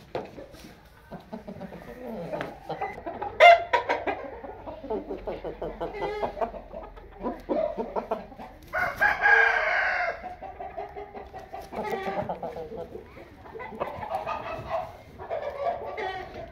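A yellow Aseel rooster with a long tail clucks in short bursts with a crow-like call, while a dog barks briefly and voices talk nearby in between.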